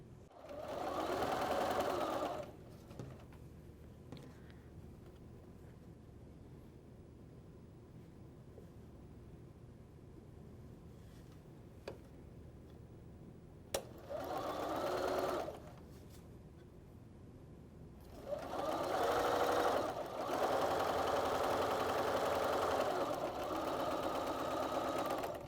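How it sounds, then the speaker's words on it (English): A sewing machine stitches quilt pieces together with a 1/4-inch seam for a rail fence quilt block, running in three loud bursts of steady whirring separated by quiet pauses. "We'll sew the top 2 together with a 1/4-inch seam and the bottom 2 together with a 1/4-inch seam."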